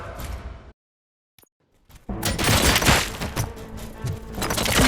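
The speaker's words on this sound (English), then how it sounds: "Gunshots? What's going on?" Gunfire in the RoboCop Rogue City video game breaks out after a moment of near silence as loud, dense bursts of shots and impacts that rattle on continuously.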